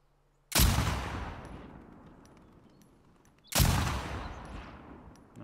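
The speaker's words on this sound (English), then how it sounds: "Nice shooting, Tommy." Two loud gunshots ring out in The Last of Us Part II, each a sharp crack followed by a long echoing decay, spaced about three seconds apart with no other sounds between.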